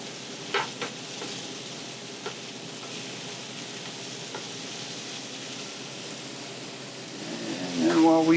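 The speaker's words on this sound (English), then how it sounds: "Just going to flip this pork real quick. You can see how that side's seared." Pork sears in a hot pan with a continuous sizzle and a few sharp utensil clicks early on, then the sizzle swells louder near the end.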